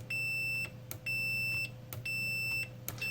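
A Fluke 17B+ multimeter's continuity beeper sounds in three steady, fairly loud tones of about half a second each, separated by short gaps with faint clicks.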